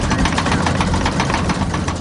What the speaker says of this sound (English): At this point, the crew goes to full power.